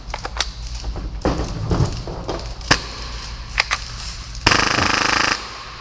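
A full-auto Hi-Capa airsoft pistol, running at roughly 30 rounds per second, fires scattered single cracks and short bursts, then one sustained rattling burst of about a second, all loud and close.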